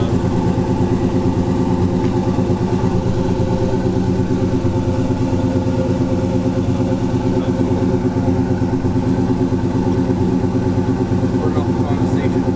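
An engine idles steadily after warming up, a loud, close, even mechanical thrum with a regular pulsing beat that holds throughout.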